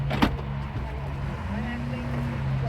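Convertible top of a 1988 Pontiac Fiero Formula moving into a partly open position, a steady electric motor whine near and loud with a short clunk, as people talk nearby.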